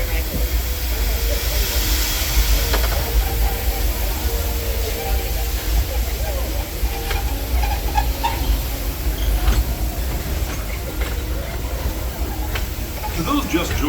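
A steady, loud rumble and hiss of the Disneyland Railroad train rolling along its rails, heard from aboard, with occasional faint clacks, continuous throughout.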